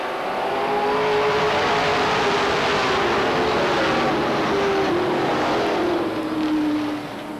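Late model race cars roar side by side at Beech Ridge Motor Speedway, a loud, sustained engine drone swelling as the pack passes close by, then easing slightly at the end.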